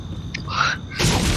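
Supply crate opening in a video game: a brief rising chime, then a loud, broadband burst of effect noise that holds to the end over steady game background.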